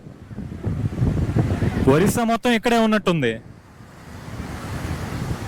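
Waves wash steadily on Swargadwar beach in Puri under gusty wind, while someone speaks briefly in the middle.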